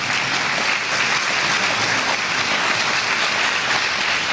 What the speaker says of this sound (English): that's when you're supposed to applaud